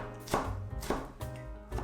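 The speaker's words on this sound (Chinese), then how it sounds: "萝卜丝太长了，不方便下一步的操作，我们把它切碎一点" A kitchen knife chopping shredded radish on a board, four distinct thudding cuts spaced about half a second apart, close and clear with no talk.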